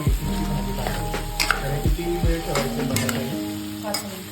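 Boiled potatoes frying in hot oil in a pan, with a steady sizzle broken by spoon scrapes and stirring knocks against the pan, close and clear, without talk.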